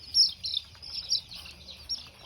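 Soft, rapid high-pitched chirps and peeps from many brooding chicks, continuous and fairly faint over a low rumbling background.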